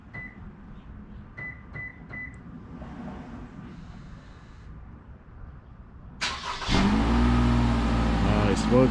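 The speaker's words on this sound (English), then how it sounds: "Let's turn on the car." A few faint electronic beeps sound in a quiet interior, then a Toyota RAV4 engine cranks and catches, rising abruptly into a loud, steady idle rumble.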